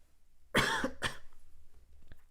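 Two harsh coughs close by, one right after the other, followed by quiet breathing.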